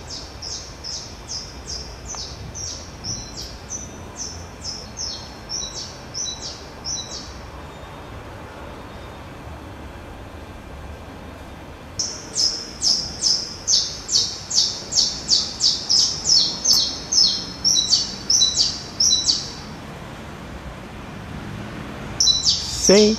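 A distant bird sings in bursts of quick, rhythmic chirps, pausing between bouts of rapid repeated notes that grow louder toward the end over a quiet outdoor background.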